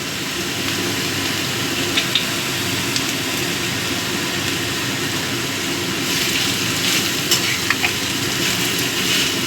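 Radish pieces stir-frying in oil with green chillies for mulo ghonto, making a loud, continuous close-up sizzle with intermittent scraping and clatter of stirring.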